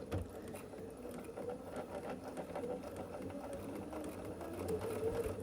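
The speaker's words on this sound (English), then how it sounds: "So we're just sewing 1/4 of an inch seam allowance on this triangle." A sewing machine runs steadily while stitching a quarter-inch seam on a triangle for a scrappy sampler quilt block, giving a close, even, rapid mechanical whir that stays constant throughout with no talking.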